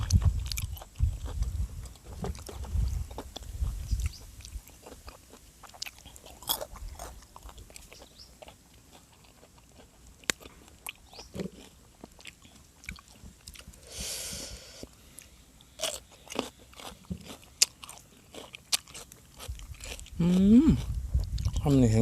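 Someone eats raw beef liver salad with cucumber, shallots and herbs up close, making wet, squishy bites and chewing in irregular bursts, with low murmured voice sounds between mouthfuls.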